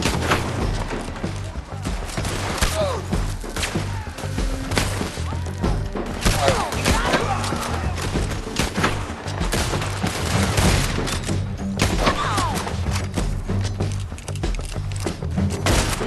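Dense, continuous volleys of gunfire and thuds rattle through a Red Dead Redemption 2 shootout, loud and steady over a layered game soundscape.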